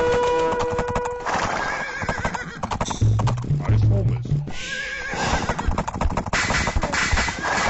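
Horse whinnying and clip-clopping hooves in a video game, with a clear neigh mid-clip and hoofbeats running under ongoing game sounds and commentary.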